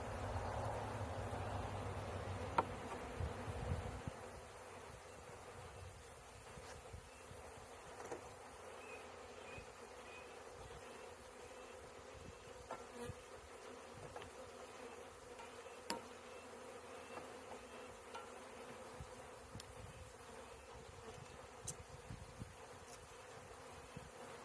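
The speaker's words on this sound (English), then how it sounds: "So another trick you can do if you have a lot of bees on that queen cage" Honey bees swarm and buzz steadily around an open hive while a 2023 package is installed, a dense close drone with no talk.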